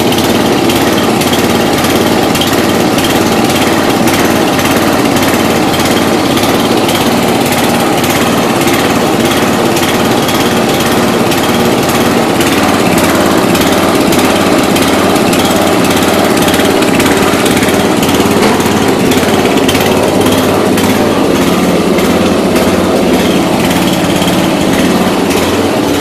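A 1992 Yard King lawn tractor's small engine runs steadily at half throttle, a loud, continuous buzzing drone close by with a slight rough flutter throughout.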